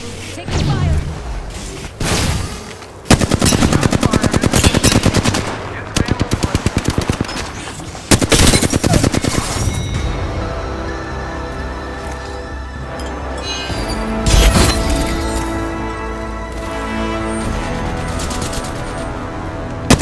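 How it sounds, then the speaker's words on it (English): Gunfire in the video game Apex Legends: loud, rapid bursts of automatic weapon fire repeating with short pauses, followed by lighter scattered shots and ringing tones toward the end. "Oh, taking fire."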